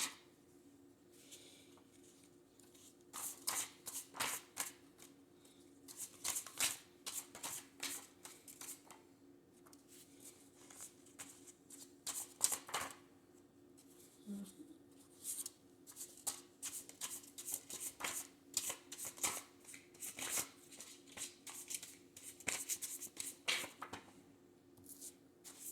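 Tarot cards being shuffled in repeated bursts of crisp riffling and slapping, close and fairly quiet, with pauses between runs and no talk.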